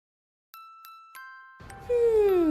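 A short sound effect of three bright bell dings, then a louder ringing chime that slides downward, played alone against silence as a subscribe reminder.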